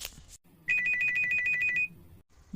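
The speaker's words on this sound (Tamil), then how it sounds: "யார் ஃபோன் பண்ணியது" A phone ringtone chimes in a quick, even run of about a dozen bright electronic tones, loud and close, with kitchen bustle before and after and no talk over it.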